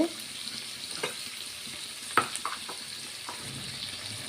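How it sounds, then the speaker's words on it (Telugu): Tomato pieces fry gently in a pan for egg semiya with a faint, even sizzle. A few light clinks and taps stand out from the sizzle, and no one talks. "టమాటా ముక్కలు ఇలా ఫ్రై అవుతూ ఉంటే"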